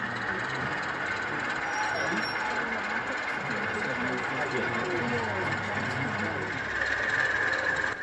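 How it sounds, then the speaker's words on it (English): A model railway Class 47 locomotive moving at an exhibition, a steady low motor hum and faint rail rumble under a continuous crowd murmur, with people talking nearby. "Here we see the 47 making its move towards the Gov van."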